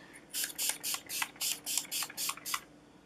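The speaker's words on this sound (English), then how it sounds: "I'm just going to go in again with that Essence Keep It Perfect Makeup Fixing Spray" An Essence Keep It Perfect makeup fixing spray mists in eight quick bursts, each a short bright hiss, evenly spaced and close.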